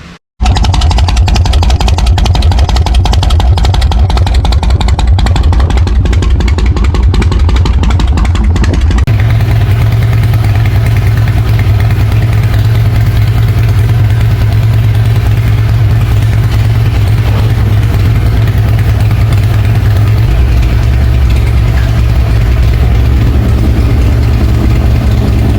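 A motorcycle with loud aftermarket exhaust pipes idles close by, a deep, loud, continuous rumble whose low throb grows heavier partway through and stays steady for over twenty seconds.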